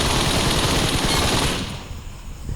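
In PUBG Mobile, a teammate's rapid automatic gunfire plays as a loud continuous burst for about a second and a half, then fades to a quieter rumble, with no talk.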